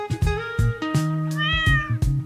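A cat in a video game meows repeatedly, several loud, close, drawn-out calls in quick succession with clicking game sounds between them and no talk.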